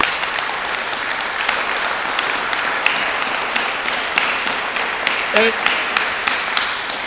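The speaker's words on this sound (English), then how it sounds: "I'd ask all of you to give Sergeant Stevens and Officer Bateman particularly a hand of applause." An audience at a police TAPS Academy ceremony applauds for a sergeant and an officer, steady clapping of moderate loudness with a brief voice briefly heard partway through.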